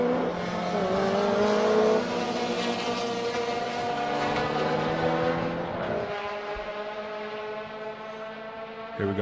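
A street-class race car lapping Circuit of the Americas roars loud and close, its engine note rising and falling through the esses, with a sharp drop and downshift near the end and no talk.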